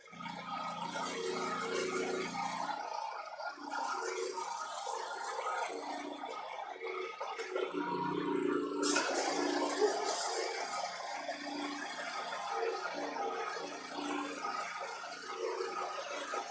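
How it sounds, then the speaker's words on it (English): Pump of a LineLazer paint sprayer flushing liquid through, a low gurgling rush with churning surges and a brief pause early on, steady and fairly quiet throughout. "I'm going to turn the pump until it just starts pumping"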